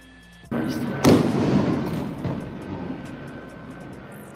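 A firework bursts at a street protest with a sudden loud bang. A crackling, rumbling roar follows and fades over a few seconds, with background crowd noise around it.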